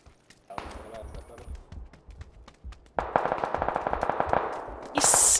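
Rapid automatic M416 rifle fire in a video game, bursts of sharp shots starting quietly and then growing loud and dense toward the end, with a voice talking at times.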